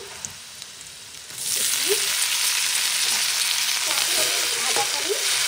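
Cashews sizzle and crackle in a hot pan, the frying swelling into a steady, close hiss after a quieter start, with faint scraping stirs through it.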